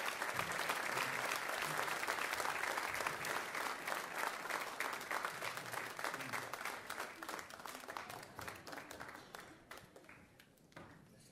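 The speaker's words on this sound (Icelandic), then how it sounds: "Gefum þeim einu sinni enn gott klapp, þessu flottu krökkum" Congregation at an Icelandic church gathering applauds the children, a full room of clapping that starts loud and dense, then thins into scattered individual claps and fades toward the end.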